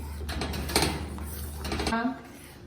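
A spoon scrapes and clinks in a pot as bread is stirred into milk that has reduced and thickened for bread kheer, with irregular soft knocks and scraping at a moderate level.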